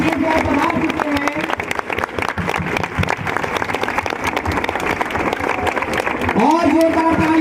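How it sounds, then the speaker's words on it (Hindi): Loud, continuous applause rises through a school inauguration ceremony to welcome the SDM, with a voice speaking at the start and again near the end over the clapping. "जोरदार तालियों से स्वागत।"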